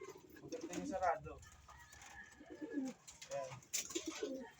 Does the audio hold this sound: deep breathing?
no